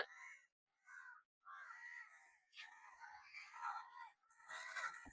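Several crows caw in quick, raspy bursts close by, calls overlapping and growing busier toward the end.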